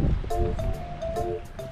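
Sea waves at Miyako wash in as a continuous broadband surf roar, with wind buffeting the microphone on an overcast day by the shore.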